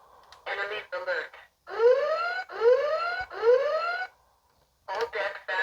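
A Star Trek Enterprise toy plays an electronic alarm effect: short beeping bursts, then three rising whooping siren sweeps, then more beeps, close and clear with no talking.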